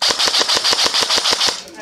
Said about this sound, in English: People are shooting at us.